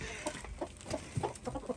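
Several White Sussex chickens clucking in short, irregular bursts nearby on a homestead, with soft rustling and background noise between calls.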